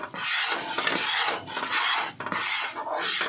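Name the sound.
stirring Mysore Pak mixture while adding ghee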